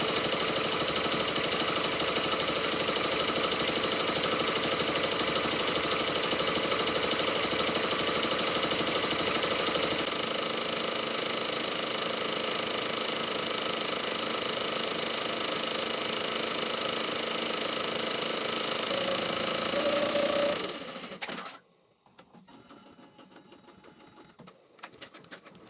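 Embroidery machine stitching a peace design on a hat held in an 8-in-1 hoop: a steady, dense mechanical whir that runs continuously for about twenty seconds, then stops abruptly into near silence.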